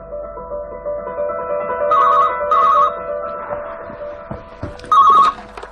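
A telephone rings in a quiet room, three short electronic trilling bursts spaced apart, clear and fairly loud, with faint background noise between rings.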